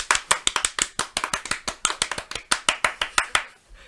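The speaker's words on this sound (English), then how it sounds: "That was a really prolonged clap." A talk-show audience claps in a long, steady run of sharp, evenly spaced claps, close and crisp, continuing for several seconds before stopping abruptly.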